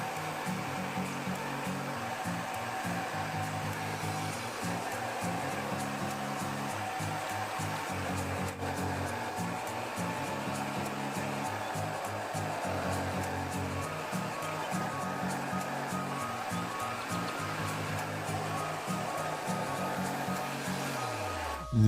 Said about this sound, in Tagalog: First, we're going to use our hair dryer options.